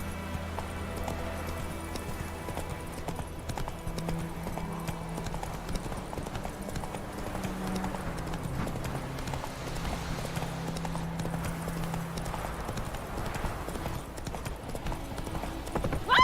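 The horse Roach gallops in The Witcher 3, its rhythmic clip-clop hoofbeats running steadily and close throughout, under a low game music bed with occasional voices.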